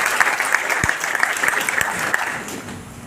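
Audience applause at a Rajasthan BJP political speech in Telangana, a dense, steady patter of clapping with a few sharper claps that fades slightly at the end.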